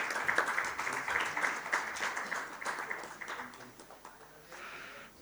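Applause from an audience at an agriculture ministry event on crop diversification, a fairly faint, distant crowd clapping that gradually thins out and fades over five seconds.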